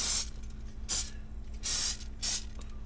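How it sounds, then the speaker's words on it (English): Butter-flavored cooking spray is sprayed from an aerosol can onto chaffles in a home kitchen, in four short hissing bursts spaced about half a second to a second apart, close to the microphone. "I'm gonna spray them with this here butter flavored cooking spray."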